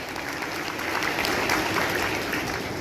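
Continuous applause from a wedding crowd for the groom, dense and even with no voices over it.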